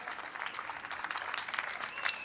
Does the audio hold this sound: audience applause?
yes